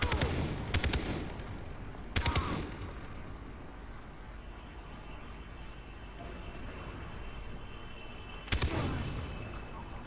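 Gunfire in the video game Far Cry 3: a few short loud bursts of rapid shots, one near the start, another around two seconds in and a last one near the end, over a steady ambient game background.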